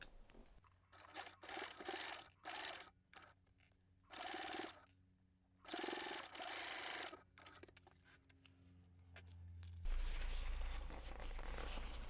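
A sewing machine stitches fabric bag pieces in several short whirring bursts separated by pauses, ending in a longer continuous run of stitching, close and clear.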